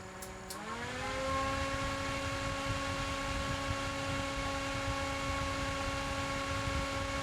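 A socket-mounted fan light with remote running at its maximum speed, giving a steady, continuous electric hum with a constant whirring drone, close and unchanging after a brief rise as the speed steps up.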